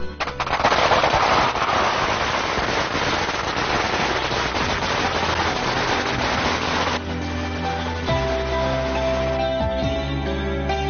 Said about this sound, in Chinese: 看鞭炮已经准备好，小伙子们也已经马上要点了